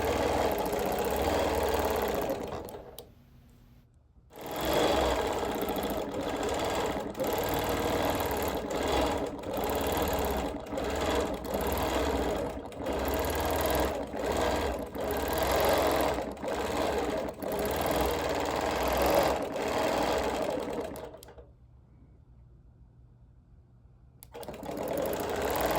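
A sewing machine runs steadily while free-motion quilting a Quiltworks star with petals, feathers and curls in contrasting thread, a loud, continuous mechanical whir with fast stitching rhythm that stops briefly twice before resuming.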